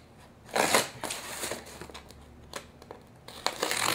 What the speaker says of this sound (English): I'm gonna take this and cut the tape off.